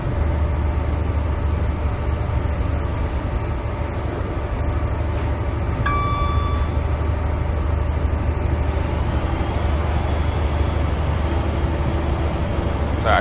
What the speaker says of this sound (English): train's making lots of noises.